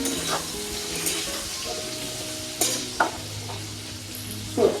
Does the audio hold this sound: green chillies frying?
yes